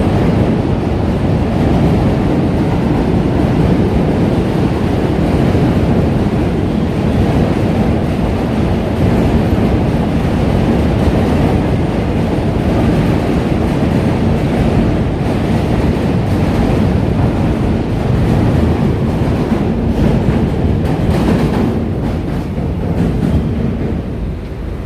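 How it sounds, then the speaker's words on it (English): A subway train crosses overhead on the Manhattan Bridge above a DUMBO, Brooklyn street, producing a loud, continuous rumbling roar that holds steady for the whole stretch, with no talk over it. "Oh boy, that's a train right there, right above us."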